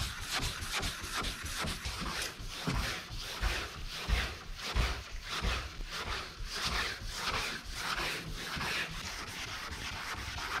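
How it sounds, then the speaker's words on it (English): Wet sanding the bodywork of a 1959 Dodge by hand with sandpaper, a close, steady rhythm of back-and-forth rasping strokes repeating evenly throughout. "That's what I like about wet sanding, is that the water keeps the sandpaper clean"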